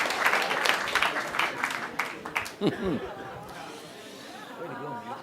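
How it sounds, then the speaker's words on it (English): Comedy show audience applause and chatter fill the room, loud at first then fading into murmuring voices and some laughter. "Applaud yourselves."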